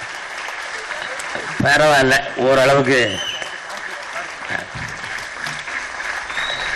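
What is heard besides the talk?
audience applause at an audio launch event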